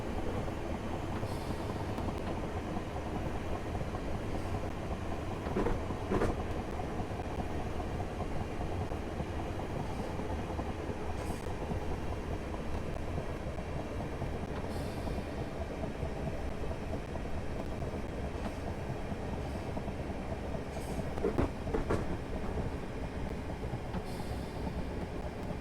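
Train running on rails in Train Sim Classic, approaching Clapham Junction: a steady, continuous rumble of wheels on track fills the whole stretch, with occasional clicks and faint squeals rising briefly above the drone.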